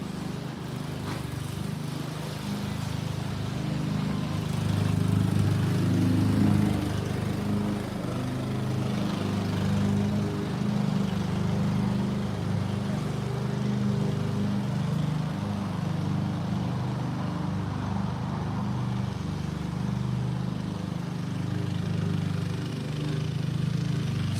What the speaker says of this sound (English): The lawnmowers out, we've got the gardeners out today.